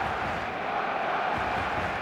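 A packed stadium crowd in the eFootball video game roars with a steady, dense wash of cheering and chanting, continuous and even throughout with no distinct voices standing out.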